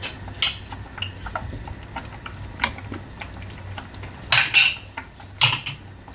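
Ripe mango being cut into pieces in a kitchen, sparse knife taps and clicks against a board or dish, with a few louder clattering scrapes near the end, no talking.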